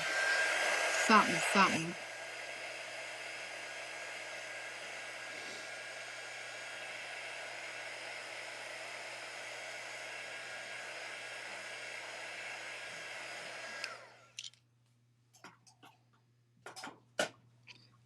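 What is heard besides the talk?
hair dryer drying a craft snowman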